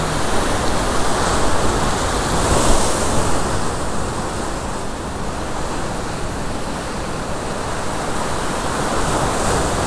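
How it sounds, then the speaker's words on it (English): Churning white water from waves breaking at a fishing spot, a loud, continuous broadband wash of surf with gentle surges and a light wind, no voices. "A lot of white water."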